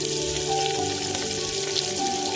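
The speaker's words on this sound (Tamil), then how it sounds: "வெங்காயம் போட்டு நல்லா வதக்கிடுவோம்." Onions sautéing in a pan for drumstick-leaf (murungai keerai) soup give a steady, close sizzle with soft crackling and faint background tones, no voices.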